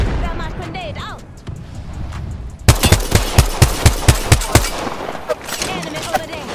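Rapid automatic gunfire from Apex Legends, a burst of about a dozen loud, evenly spaced shots after a quieter stretch of game noise, with voices talking over the action.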